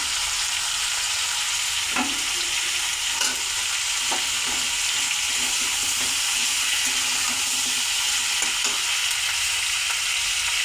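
Ginger paste sizzles loudly in a hot pan, a steady broadband frying hiss with occasional soft stirring scrapes and clinks over about ten seconds, no voices.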